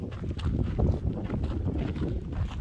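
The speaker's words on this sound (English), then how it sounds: "it's a little windy, a little dusty" Low, rumbling wind buffets the microphone in uneven, dusty gusts at the Painted Hills, a steady roar with no voices.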